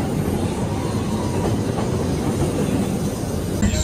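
A passenger train rolls along the Magic Kingdom railroad, a steady close rumble of wheels and carriage noise with faint clickety-clack, continuous and loud with no talking.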